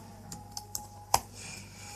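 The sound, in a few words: typing C code on a computer keyboard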